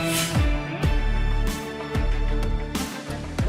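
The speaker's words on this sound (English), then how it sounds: "That is the sound of a safety alert." A TV news safety alert tone plays: a loud electronic sound with repeated sharp hits about every half second over a sustained low drone.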